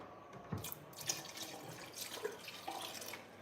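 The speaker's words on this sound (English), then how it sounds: "I'm going to put a little bit of water." A kitchen tap runs water to top up a pot of Jamaican hominy corn porridge, a quiet continuous trickle with a few small splashes and clinks.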